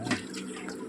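Water poured over a baby during a naming ceremony, a brief soft splash and trickle of liquid heard close up.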